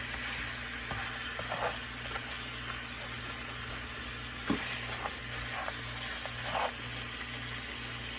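Ribs sizzle in hot oil while being mixed, a steady close frying hiss with soft irregular stirring knocks and scrapes throughout, no voices.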